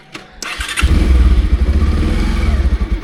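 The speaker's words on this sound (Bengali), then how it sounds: "আমি ঘুরিয়ে নিই বাবা বাইকটা" A Bajaj Pulsar 150 BS6 motorcycle starts and settles into a steady, close, throbbing idle with a rhythmic low pulse, heard alone without talk.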